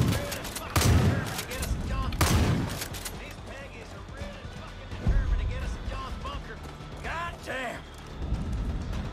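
Heavy explosive blasts of mortar fire in Far Cry 5, a few loud booming impacts with rumbling tails among scattered combat noise, while someone talks over it.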